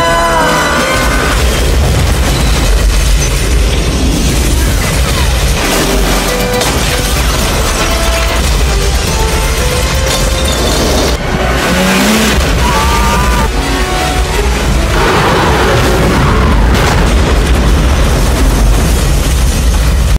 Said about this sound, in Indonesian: Kapal itu terus meluncur dan akhirnya menabrak kapal pesiar, membuat ledakan yang cukup besar